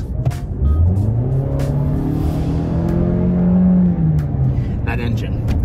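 2020 Toyota RAV4 XLE with a 2.5-liter four-cylinder engine and CVT, revving loud and close as the engine pitch climbs, holds high, then falls back, with brief clicks at the end.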